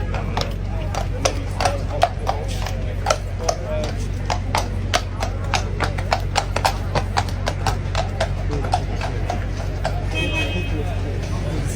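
Horses stand and shuffle on hard pavement during preparations for coronation events in England, their hooves striking in a steady run of crisp clip-clops as people talk nearby over a low background hum.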